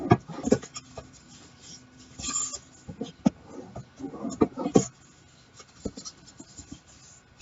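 Paper bags for a handmade album are creased and folded by hand, giving quiet, irregular rustles, rubs and crisp little snaps close up.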